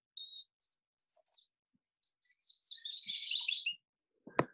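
Birds sing in short, high chirps and warbling phrases, clear and fairly close against silence, ending with a sharp click.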